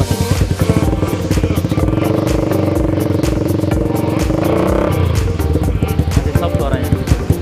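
A custom Yamaha Vixion scrambler with an R9 exhaust runs up close with a throbbing, pulsing exhaust note and a brief rise in revs partway through, as people talk beside it.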